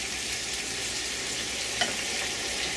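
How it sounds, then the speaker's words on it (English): Chicken chop suey with vegetables and sauce bubbles and sizzles in a pot, a steady close hiss that carries on without pause and without speech. "everything's boiling pretty good"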